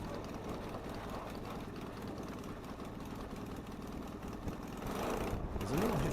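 The engine of an ultralight aircraft runs at a steady, fairly quiet idle and then swells louder near the end as it is run up, heard alone with no voices.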